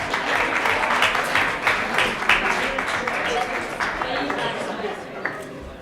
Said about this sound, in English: I think give them a big clap.